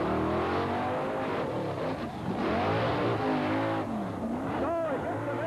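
Bigfoot number 4 monster truck driving a course at an indoor event in Indianapolis, 1989, its engine roaring loudly and revving up and down throughout, close and continuous, with an announcer talking over it.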